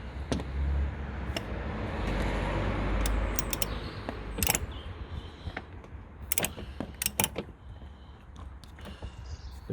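A socket ratchet clicking on a bolt for the upper engine torque mount of a P3 Volvo, rough mechanical rustling at first, then bursts of sharp ratcheting clicks in short irregular runs, close up.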